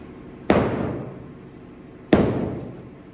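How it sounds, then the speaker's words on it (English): Sledgehammer smashing during demolition, two heavy separate impacts about a second and a half apart, each a sharp crack followed by rattling debris that decays, close and loud. "Good old sledgehammer now."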